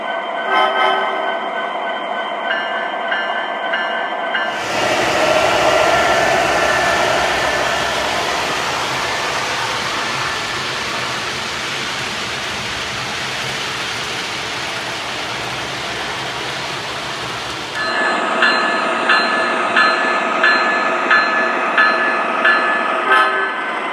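Atlas O gauge model diesel locomotives, an ES44AC and an SD70ACe, run with a steady broadband rumble of motors and wheels on track, flanked by sound-system tones and horn-like toots at the start and end.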